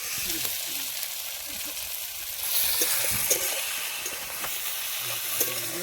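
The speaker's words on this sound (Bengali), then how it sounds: "আদা রসুন বাটা দিয়ে দিলাম, দিয়ে ভালো করে একটু নেড়ে নেবো।" Ginger-garlic paste sizzles in hot oil in a village kitchen pan while being stirred, a close crackling hiss with scraping stirs and occasional louder bursts.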